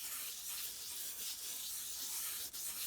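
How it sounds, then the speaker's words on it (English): Luscious powder is rubbed by hand onto a craft project, making a steady, soft, scratchy rubbing hiss that continues without pause and without talk. "So give it a good old rub"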